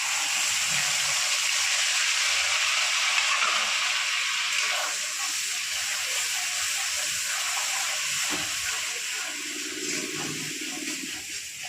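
Ginger, onion and garlic paste sizzles in hot frying oil used for lottia dried fish, a loud steady hiss that continues throughout and eases slightly midway, with no talk over it.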